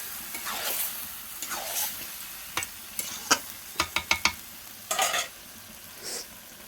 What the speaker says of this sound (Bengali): দেখো বন্ধুরা চিকেনটা কষা হচ্ছে